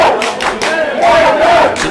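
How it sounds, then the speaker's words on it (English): A loud French crowd roars and shouts in waves at a canoe polo match at the European Championships, a dense, close wall of voices with rising and falling swells. "French crowd is very loud."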